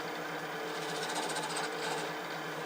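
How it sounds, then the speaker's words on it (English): A negative rake scraper shaves very little off dense Palo Santo wood on a threaded box, a steady close buzzing rasp with a faint rhythmic pulse running evenly throughout. "I'm using a negative rake scraper"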